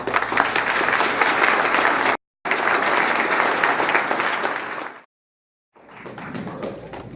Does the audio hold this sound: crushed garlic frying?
no